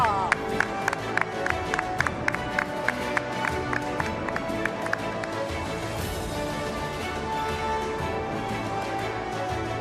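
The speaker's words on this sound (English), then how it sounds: "huge round of applause for Mr." Large audience clapping and cheering for flautist Rakesh Chaurasia at a global summit award ceremony, a dense sustained wash of applause with background music tones running throughout.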